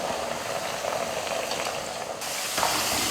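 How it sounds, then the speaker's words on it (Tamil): Slices of vethala valli tuber fry in hot oil, giving a dense, even sizzle with crackling that stays close and steady, with no talking. "இப்போ எண்ணெயில் இந்த கழுங்கு போட்டுக்கலாம்."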